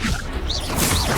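The Confringo blasting spell going off in the Hogwarts Legacy video game, a dense burst of whooshing, crackling impact noise that stays loud throughout.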